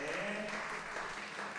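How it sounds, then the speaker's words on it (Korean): An audience applauding both teams after an amateur esports tournament final, a steady wash of clapping throughout with a narrator's voice speaking over it. "관람객들은 양팀 선수 모두에게 축하와 격려의 박수를 보냈습니다"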